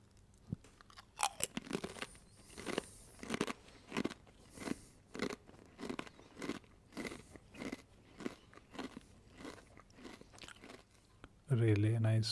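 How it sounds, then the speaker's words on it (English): Kettle Studio paprika potato chips being chewed close up, with a steady run of sharp, dry crunches roughly every half second for the whole stretch and a louder burst near the end. "You also get a really great crunch."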